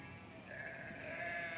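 Sheep bleating in a pastoral audio drama scene as a shepherd hurries his flock down a slope, a sustained wavering bleat rising in loudness over about a second and a half, with no one talking.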